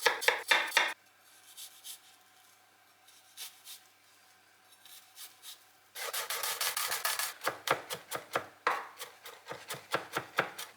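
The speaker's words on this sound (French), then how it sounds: "Puis on hache notre gousse d'ail." A knife mincing a garlic clove on a wooden board: a quick burst of chops, a quieter pause with soft scraping, then a long run of rapid rhythmic chopping, close and crisp.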